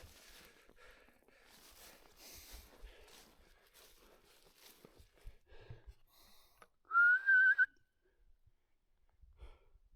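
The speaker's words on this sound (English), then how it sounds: "He's whistling for me now." A sharp, loud whistle rings out for under a second, rising slightly, after quiet rustling and footsteps outdoors.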